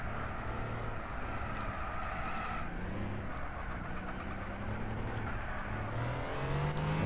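A classic supercar engine drones and revs steadily through a race on a twisty track in Gran Turismo 6, with shifting pitch as the car accelerates and changes gear, loud and continuous with no talking.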